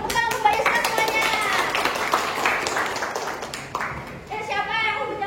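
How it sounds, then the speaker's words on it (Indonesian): A small classroom group claps in a burst of applause for several seconds, hands patting unevenly and close, with voices chattering over it. "Tepuk tangan untuk Mbak Yusna semuanya."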